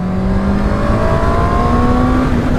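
A loud 2019 Honda CBR650R sport motorcycle engine close by, steadily climbing in pitch as it revs hard and pulls through the gears, gaining a kick around 6,500 to 7,000 rpm.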